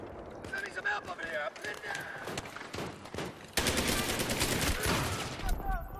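A PP-2000 submachine gun fires in Battlefield 3, with a steady stream of close, rapid shots in the second half after scattered earlier bursts and footsteps, and someone talking over parts of it.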